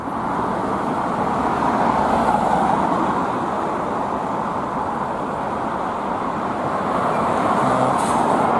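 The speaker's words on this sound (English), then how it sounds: "This is the underground car park that traffic is emerging from here." Cars pull out of an underground car park at a shopping centre, giving a continuous dense rumble of engines and tyres that holds steady and fairly loud throughout.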